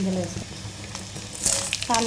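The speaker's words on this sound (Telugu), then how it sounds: "ఎల్లిపాయలు అనేది వేసేసుకుందాం." Garlic frying in hot oil for a tempering, a close, steady sizzle with occasional crackles; a person speaks briefly at the start and again near the end.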